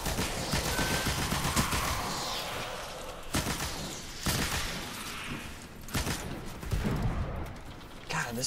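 Dense, continuous automatic gunfire in a video game, loud and sustained with heavy layered bursts and game effects throughout, someone talking faintly under it.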